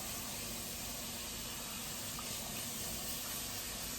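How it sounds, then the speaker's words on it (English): Yams are rinsed under running tap water in a kitchen, a constant close gushing rush that holds steady and loud throughout with no talking. "I think I'll rinse them one more time. Make sure my water is not cloudy."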